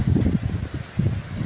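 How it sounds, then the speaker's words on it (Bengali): Gusty wind blows outdoors during a Kalbaishakhi storm in a rural mango-growing village, a close rumbling buffet with uneven surges that fade and return over a short stretch. "কি সুন্দর বাতাস বাইতেছে"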